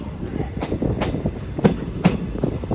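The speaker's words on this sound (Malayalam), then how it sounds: "ചെറുവത്തൂർ റെയിൽവേ സ്റ്റേഷനിലേക്ക് ഇതാ നമ്മുടെ ട്രെയിൻ എത്തിക്കൊണ്ടിരിക്കുകയാണ്." The Mangaluru Express rolls into Cheruvathur railway station, its wheels beating out a steady, close clickety-clack over a low rumble.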